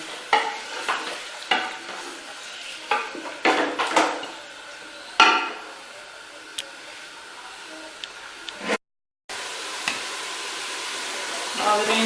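Goat liver and heart fry with ginger, garlic and onion in a pot over a full flame, a spoon scraping and stirring in repeated bursts over a continuous sizzle, with one brief dropout near the end.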